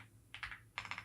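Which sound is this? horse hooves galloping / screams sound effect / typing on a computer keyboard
typing on a computer keyboard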